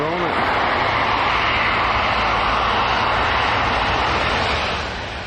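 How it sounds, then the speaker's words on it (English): A business jet departs Manchester Airport with a loud, steady engine roar nearby that holds for several seconds and then begins to fade. "And there's this biz jet on the way out."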